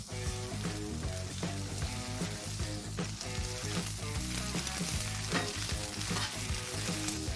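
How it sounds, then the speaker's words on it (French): Sliced mushrooms and finely sliced sweet onion sizzle steadily in hot oil in a pan for a bacon mushroom cheeseburger, with intermittent stirring clatter over a continuous loud frying hiss and no talking. "Avec ces champignons, je vais ajouter de l'oignon doux, très finement tranché."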